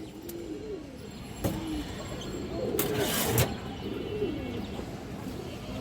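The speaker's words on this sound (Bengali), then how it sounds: "একটা মাদি কবুতর" A female pigeon of an old Bradland line coos softly in a few repeated low phrases, close by, over steady background noise with a couple of sharp knocks.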